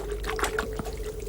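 Water trickles and splashes as it is scooped and poured out of a small boat, a short run of close, bubbly dribbling sounds.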